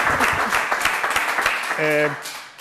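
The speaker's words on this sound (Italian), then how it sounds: "io lo propongo un applauso a questo allenatore" A brief round of applause for a women's Serie B2 volleyball coach in Rovigo, Italy, broken clapping under a speaking voice, with a short tonal sound rising near the end as the clapping fades.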